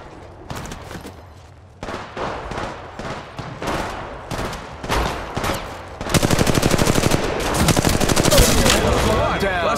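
Rapid bursts of gunfire in the Apex Legends video game, choppy single shots giving way to sustained automatic fire, loud and close, with speech mixed in.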